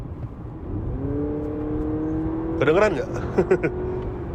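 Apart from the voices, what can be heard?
artificial sporty engine sound through car speakers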